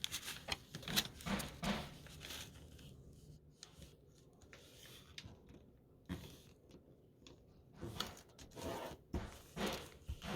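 A magazine page being folded and creased by hand, heard as close, crisp paper rustles and sliding scrapes in short bursts separated by quieter pauses.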